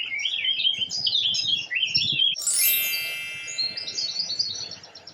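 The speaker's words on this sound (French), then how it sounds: "peut-être par le chant des oiseaux" Birds chirp and twitter in quick bright phrases, with a sharp high ringing note cutting in midway before the chirping resumes.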